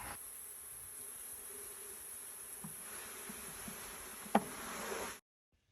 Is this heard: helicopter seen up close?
no